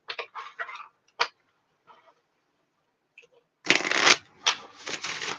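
A deck of tarot cards is shuffled close by in quick riffling bursts, first short crisp flutters, then a longer dense shuffle near the end, with brief quiet gaps between.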